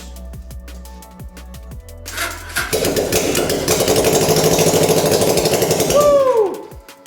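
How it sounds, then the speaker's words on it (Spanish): Motorcycle engine fitted to a homemade kart sputters into life after a couple of seconds, then runs loud and rough with rapid firing, briefly revving before cutting back near the end, no talking. "Vamos a ver ahora cómo enciende"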